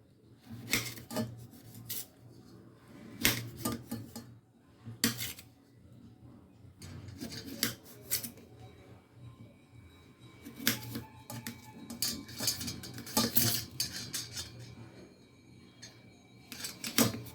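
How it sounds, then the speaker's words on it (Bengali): A knife slices a raw green tomato very thinly, making close, crisp cutting taps in quick irregular bursts separated by short pauses. "এখন আমি এটাকে এইভাবে খুব পাতলা পাতলা করে কেটে নেবো"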